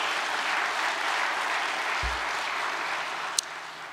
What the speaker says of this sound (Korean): 참부모님, 참어머님의 노고에 감사의 박수를 보내십시다.